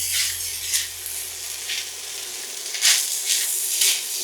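Sizzling egg fried rice in a hot pan as soft canned peas go in, a steady close frying hiss with several louder bursts of crackle as the food is stirred and tossed, no voices.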